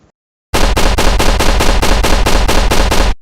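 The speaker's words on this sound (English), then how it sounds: "Now I will assign the right sounds" Rapid automatic weapon fire from a Godot first-person shooter game: about ten loud, evenly spaced bursts in steady rhythm after a short silence, with no talking.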